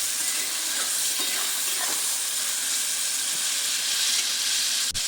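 Ridge gourd frying in a pan, giving a loud continuous hiss and sizzle of oil and steam close by, with a few soft clicks and a brief thump near the end.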